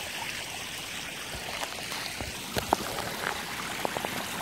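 Creek water flows in a continuous soft rush outdoors, with a few brief splashes and trickling drips standing out near the end.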